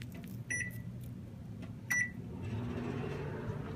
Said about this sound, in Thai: ผมจะลอง หันไปเปิดไมโครเวฟนะครับ